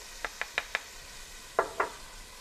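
Onions and white pepper going into melted non-hydrogenated margarine in a pan: a soft sizzle underneath four quick, light taps followed by two stronger scrapes of a utensil, close and fairly quiet, no voices.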